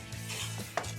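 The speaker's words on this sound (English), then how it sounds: "I'm not as good as chopping as you are, Larry." A knife chopping food, likely chili ingredients, on a cutting board in a firehouse kitchen, a few close, quick wooden knocks with a brief sharper strike, alone with no talk.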